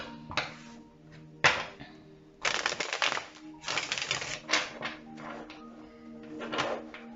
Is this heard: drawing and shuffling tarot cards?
yes